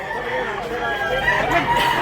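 A rooster crows among gamefowl being sold, its strained call rising over the murmur of people talking nearby.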